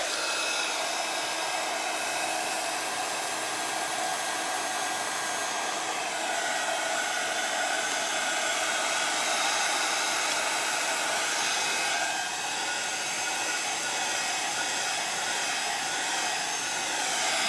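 A hair dryer blows steadily to dry paint on a foil craft piece. Its loud, continuous fan whoosh holds nearly unchanged throughout, with a slight shift in pitch partway through.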